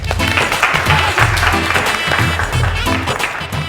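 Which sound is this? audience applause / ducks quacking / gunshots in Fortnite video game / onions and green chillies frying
audience applause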